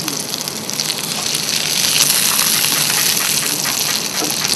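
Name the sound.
whiting fillet frying in butter in a pan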